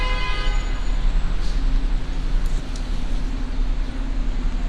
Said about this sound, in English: starting to hear the honking in the background